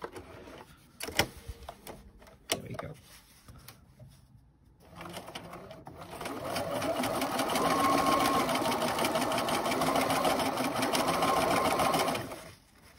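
A sewing machine stitches a fabric face mask. A few sharp handling clicks come first, then the machine runs steadily and close for several seconds before stopping, with no talk over it.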